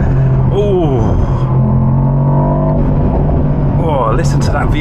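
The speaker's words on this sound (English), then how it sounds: "Oh, listen to that V8." A Mercedes-AMG SL V8 in Sport Plus mode roars as it accelerates hard, the engine note climbing in pitch and loud from inside the cabin, with a voice talking over it.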